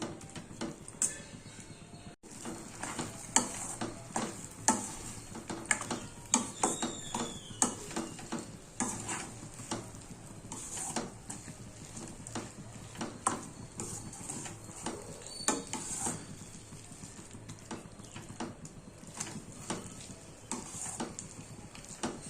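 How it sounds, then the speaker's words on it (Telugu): Egg bhurji fries in a pan with a soft, steady sizzle while a spatula scrapes and taps the metal in irregular bursts throughout, close by and fairly quiet. "ఇలా పొడి పొడిగా వచ్చేంత వరకు ఫ్రై చేసుకోవాలి."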